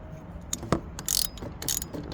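A ratchet removing the wiper motor bolts on a 2003–2007 Honda Accord, quick clicking pawl bursts and small metallic knocks, close and moderately loud, with no talk.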